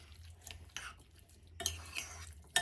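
Spoon stirring and scraping ingredients together in a bowl, a few short clattering bursts of mixing close by with quiet pauses in between.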